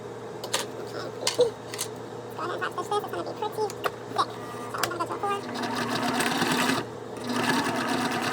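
A sewing machine top stitches a fabric bag's lining in bursts of fast, steady mechanical whirring, with louder sustained runs toward the end, close by, and a person talking over it.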